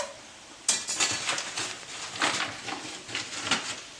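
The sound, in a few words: stirring flour into gravy in a pan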